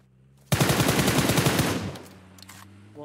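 A rapid burst of automatic gunfire in the PUBG Mobile battle royale game, loud and steady for about a second and a half, then cutting off into quiet background game noise.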